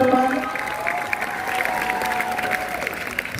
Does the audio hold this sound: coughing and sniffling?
no